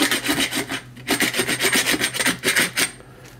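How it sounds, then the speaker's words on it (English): A round file rasps back and forth around the inside edge of a homemade blowpipe tube, steady rhythmic scraping strokes up close, with a short pause midway and no talking. "give it a quick file around the inside with a round file like that"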